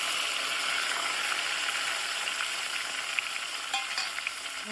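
Onion and tomato fry in a pan with a soft, steady hiss of sizzling oil and a few faint stirring clinks near the end, with no voices.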